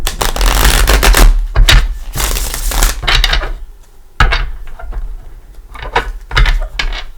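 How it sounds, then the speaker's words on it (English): A deck of crystal tarot cards is shuffled by hand in several loud, close bursts of riffling and slapping against a table, separated by short pauses. "Give it a shuffle."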